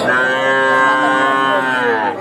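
Seven-month-old Friesian calf mooing at a busy cattle market, one long loud drawn-out moo close by, nearly alone.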